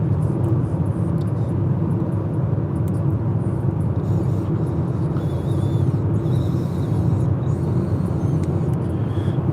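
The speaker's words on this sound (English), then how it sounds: "Got a car passing me." A car passes close by, a steady broadband road rumble and whir holding loud and continuous throughout with no voices.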